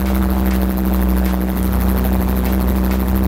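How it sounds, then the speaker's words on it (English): A helicopter flies overhead, with a steady loud rotor drone and a strong low engine hum running continuously and close, with no voices present. "Tor flies helicopters."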